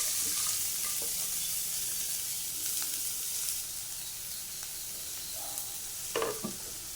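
Chopped long beans, shallots and green chilli frying in a pan, a steady moderate sizzle with stirring scrapes and a couple of louder spatula knocks near the end.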